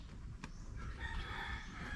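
A large rooster at a rural hut in Malalag gives one faint crow, sounding as a brief rising call in the background over low outdoor noise.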